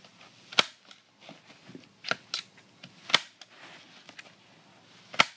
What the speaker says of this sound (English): staple the next corner.